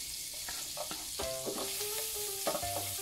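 Garlic frying in a pan with cream butter, a continuous quiet sizzle with a few brief stirring knocks, close by, over a faint tonal background and no speech.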